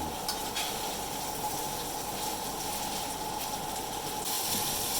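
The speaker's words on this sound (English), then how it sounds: "So now we're just stirring this up and getting it nice and gently softened" Green and yellow peppers sizzle steadily in a pan as they are stirred to soften, a soft continuous hiss with faint scraping, quiet and close with no talk.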